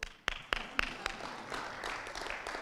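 A few sharp, separate claps ring out at the start, then give way to a softer, scattered patter of hands in a room at a school parents' meeting.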